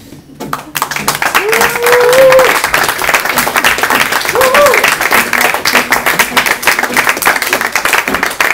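Sustained applause from a crowd at the Steinbruch venue in Duisburg, dense clapping with occasional cheers and voices mixed in, loud and steady throughout.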